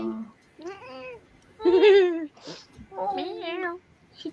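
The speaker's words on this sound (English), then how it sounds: "She does meow a lot." A domestic cat meows repeatedly in several drawn-out, rising and falling calls, close and fairly loud, with short pauses between.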